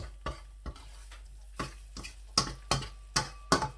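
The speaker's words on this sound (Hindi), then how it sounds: "आप देख सकते हैं मूंग हमारा जो है वो पाउडर मूंग की दाल का वो फ्राई होना शुरू हो गया।" Moong dal powder frying on medium heat while a spoon stirs it in a pan, a series of sharp scraping ticks that come quicker near the end over a faint sizzle.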